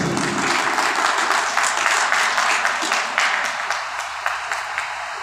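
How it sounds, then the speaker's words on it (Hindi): Audience at a ceremony applauding loudly, a bright, sustained roar of many clapping hands that thins slightly toward the end, with faint voices underneath. "तो सम्मान तालियों के साथ जोरदार ताली हो"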